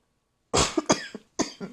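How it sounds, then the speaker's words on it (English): A sudden close cough bursts out, followed by a few shorter coughs and a throat-clearing hack after a brief pause. "I had to cough."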